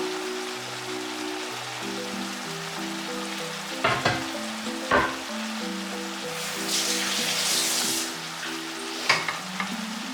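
Minced meat frying in a pan with onion and garlic, a steady loud sizzle with stirring clatter and a few sharp scrapes, while soft music plays underneath.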